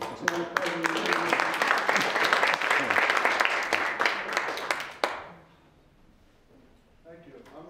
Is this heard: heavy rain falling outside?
no